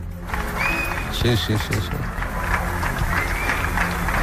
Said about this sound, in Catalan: Sí, sí que es cola. Amb gent aplaudint.